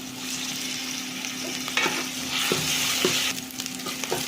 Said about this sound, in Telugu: మీడియం ఫ్లేమ్లోనే పెట్టి వేపుకుంటున్నామండి